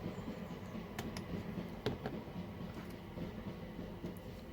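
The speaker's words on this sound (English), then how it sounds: "Sorry, another train just running past outside." A real train runs past outside, a steady low rumble with faint rail clicks and a few sharper metallic ticks, moderately distant and continuous throughout, with no one talking.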